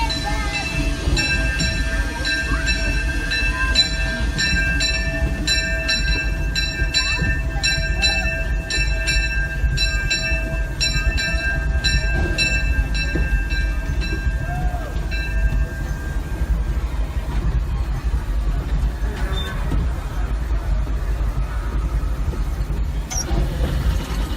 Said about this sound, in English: Train slowing down.